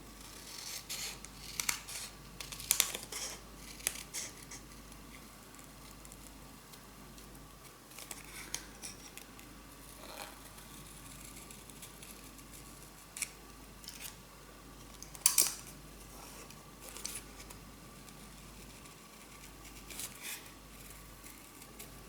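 Scissors cutting paper for a scrapbook mini album, with scattered short snips and rustling at close range, some cuts louder than others, spread across a quiet stretch with no talking.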